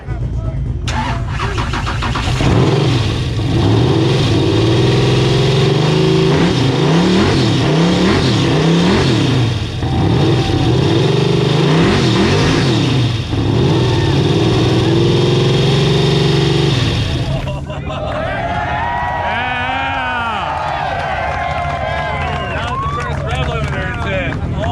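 A 10.3L supercharged big-block car engine starts up and revs hard close by, a loud deep rumble with repeated surging blips, then drops to a lumpy idle. Voices talk over it.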